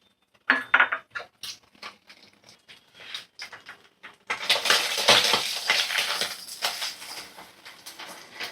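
Two eggs in two separate bowls are beaten for an omelet, starting with sharp taps of a utensil against the bowl and then building into fast, continuous clinking and sloshing nearby.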